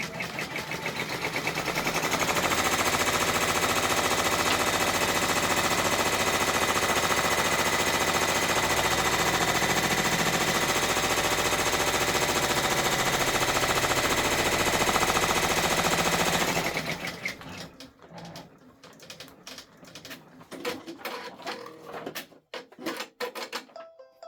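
A Brother embroidery machine runs steadily for about sixteen seconds, stitching a placement line on fabric with a dense, loud mechanical chatter. It then stops abruptly, leaving scattered small clicks and handling noises.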